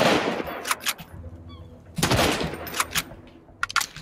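Video game gunfire near a small shooting range area in a submerged downtown map: sharp bursts of rapid shots in several clusters with brief quiet gaps, some close and loud, others quicker and fainter.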